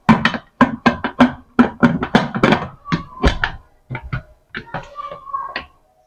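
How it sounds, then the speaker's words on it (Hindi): A pressure cooker lid is fitted and closed while rajma cooks, giving a series of sharp metallic clunks and taps, first rapid and clustered, then sparser, close and loud. "अब इसका करते हैं ढक्कन बंद।"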